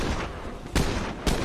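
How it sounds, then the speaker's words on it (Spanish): Gunfire in the zombie survival game State of Decay 2, a dense fusillade of shots with two sharper, louder reports standing out against steady distant firing. "se escuchan tiros por todos lados"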